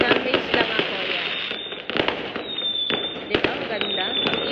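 Fireworks exploding on the last day of Chinese New Year celebrations, a rapid barrage of sharp bangs and crackles, close and loud, with people talking over the din.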